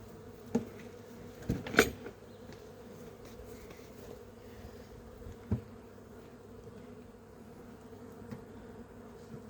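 Honeybees buzzing around a hive that has been carried aside, a soft continuous drone with a few louder bees passing near the microphone, faint knocks in between.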